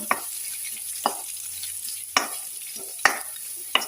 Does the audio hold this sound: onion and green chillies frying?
yes